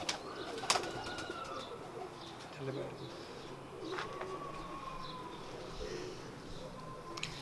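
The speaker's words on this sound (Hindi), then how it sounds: "ये साधना कबूतर और ये उसकी फ़ीमेल लगाई हुई है अबाबील।" A mated pair of pigeons, a Sadhna male with an Ababeel female, coos faintly amid busy background noise, with occasional sharp whistles and voices talking nearby.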